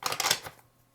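A deck of tarot cards is shuffled in one quick, crisp riffle of rapid papery flutters that fades out within half a second, close and alone.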